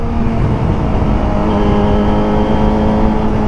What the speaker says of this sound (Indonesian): Gua pakai knalpot Akrapovic full system, knalpot racing paling sopan ya.